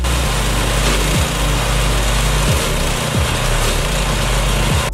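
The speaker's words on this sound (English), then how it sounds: "Discover the incredible power of this high-performance wood chipper." A powerful wood chipper runs loud and steady as it shreds branches, its engine drone heavy and constant. Brief downward sweeps in pitch come every second or so as the load bites, and no one speaks.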